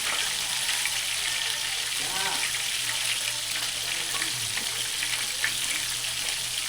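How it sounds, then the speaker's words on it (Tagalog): Onions fry in a pan with a steady, dense sizzle throughout and a faint background hum. There is no clear speech over it. "niluluto lang natin yan yung sibuyas"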